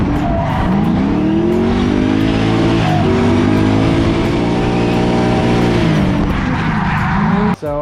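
An LS-swapped Nissan 240SX runs loudly and steadily, its V8 note holding a rich droning hum with rising and falling tones as revs change, close up throughout, ending in a sudden sharp cutoff.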